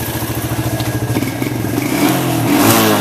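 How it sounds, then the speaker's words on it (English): Suzuki quad ATV engine idling close by, with a steady pulsing chug that thickens into a rougher, fuller rumble toward the end. "Wow, does that ever idle nice?"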